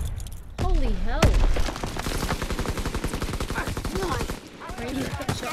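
Rapid automatic gunfire in the video game Call of Duty: WWII, a fast steady stream of loud shots for several seconds, with a few short bursts around it and a voice heard over the action.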